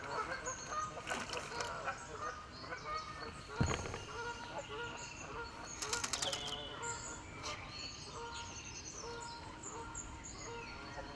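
Canada geese honking at a carp fishing lake, scattered honks and wing flaps at moderate distance amid background bird calls, with people talking at times.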